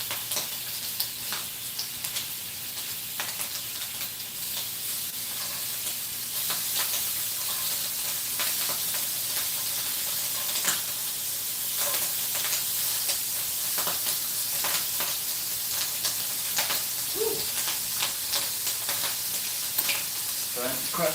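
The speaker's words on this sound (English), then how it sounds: "I'm gonna cook it like a sunny side up egg" An emu egg fries sunny side up in a hot pan, giving a steady, close sizzle and crackle with scattered pops and spits throughout, with occasional faint background sounds.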